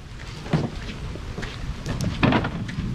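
Steady rain patters close by with scattered heavier drops and low rumbling bursts suggestive of thunder, no voices present.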